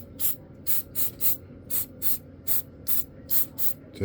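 PTFE lubricant spray is squirted onto laser-cut parts around a shaft in about ten short, sharp hissing bursts, evenly spaced and close by, with quiet gaps between each one.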